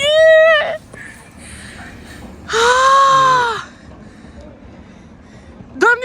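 A person screams in loud, high, sustained bursts while riding a toboggan down from the Great Wall at Mutianyu, three separate cries with quieter rushing noise between them.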